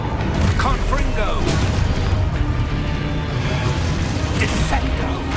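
Fiery blast of the Confringo spell in Hogwarts Legacy, a sharp burst over a dense, continuous roar of combat effects and rumbling impacts, loud and close throughout.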